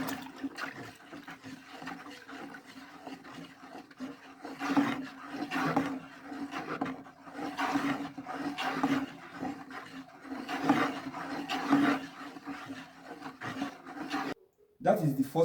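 Caustic soda solution is stirred by hand for liquid soap, giving repeated rough swishing and scraping strokes in a rhythmic pattern, moderately close, with a brief pause near the end.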